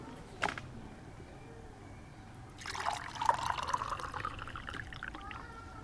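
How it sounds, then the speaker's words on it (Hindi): A single glass of water is poured into a jug, a splashing, gurgling stream that begins after a brief clink and runs steadily to the end, close and clear. "सबसे पहले जग में 1 गिलास पानी डालेंगे।"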